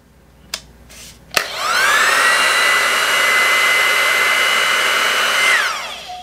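A Revlon One Step Air Straight hair dryer brush switches on after a couple of clicks and blows steadily on its low setting, a loud whooshing whine that holds for several seconds before spinning down.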